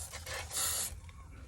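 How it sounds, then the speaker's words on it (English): Battery cleaner sprayed onto corroded car battery terminals, a short close hiss burst swelling for about half a second before fading into quieter rubbing. "I'm going to spray them down."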